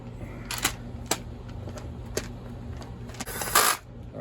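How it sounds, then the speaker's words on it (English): A screw gun driving screws while a STIHL MS291 chainsaw is put back together, giving a few brief sharp mechanical clicks and short whirs spaced over several seconds against a quiet background. "This is a screw gun. So whenever you hear that clicking noise"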